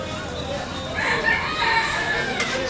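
A chicken crowing at a busy Cairo street food stall, its call rising over steady street noise while people talk nearby.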